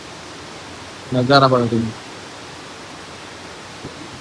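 Rain-swollen water pours beneath a small check dam, a steady broad rushing roar that fills the whole scene, with someone speaking briefly over it.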